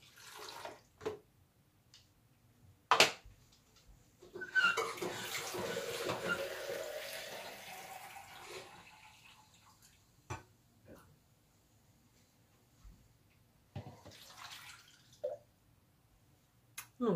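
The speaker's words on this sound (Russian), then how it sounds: "Наливайте сюда воду." Water is poured into a container holding grapes and two oranges, making a soft, splashy stream lasting about four seconds, with scattered clicks and drips before and after.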